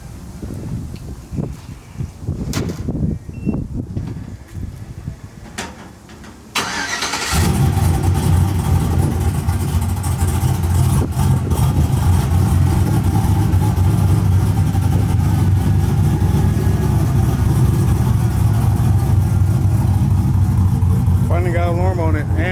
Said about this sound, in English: The remote started one more time